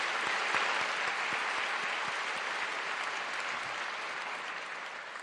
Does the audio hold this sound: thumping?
no